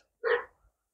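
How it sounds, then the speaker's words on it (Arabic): A Belgian Malinois puppy gives one short, sharp bark close by, followed by a faint trailing sound and then silence. "الكلاب الميلينو اللي عندنا، ولاد كوريا وميلو"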